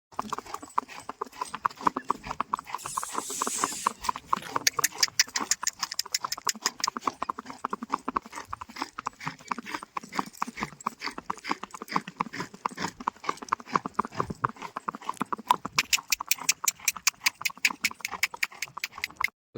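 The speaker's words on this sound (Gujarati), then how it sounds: "જો આપણે રાઇડિંગ કરીને આવતા રહ્યા ઘોડી ધમારી નાખી છે" Steady clip-clop of a mare's hooves while being ridden, a fast even rhythm running close and loud throughout, with a short burst of hiss early on and faint voices in the background.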